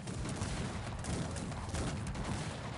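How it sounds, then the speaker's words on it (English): Dragoons firing muskets in the real-time strategy game Cossacks 3: a dense, continuous crackle of distant volley fire spread across a noisy battlefield, steady and moderately loud without distinct single shots. "his dragoons stay back and shoot"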